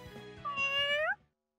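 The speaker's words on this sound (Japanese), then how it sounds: "にゃー、かわいい、猫がいる" A stray cat meows in a Japanese visual novel game, two short rising meows close and clear over soft background game music, then silence.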